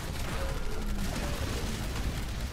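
Gunfire in the video game Titanfall during an Attrition match on the map Rise: a rapid, continuous clatter of automatic weapons and mechanical clicks, moderately loud and unbroken, with no talking over it.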